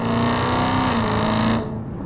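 A supercharged Dodge Hellcat Redeye V8 pulls hard after a downshift, a loud steady engine roar with supercharger whine that holds for over a second and a half, then eases off.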